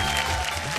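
Loud crowd clapping from a television show audience greeting semifinalist contestants, a short, thick wash of applause with no clear pauses.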